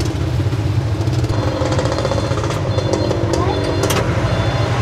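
Busy road traffic with many vehicles, likely motorcycles and cars, heard on a congested road in Bataan during a year-end tuktuk trip. A steady, loud, dense engine rumble carries on throughout, with no speech.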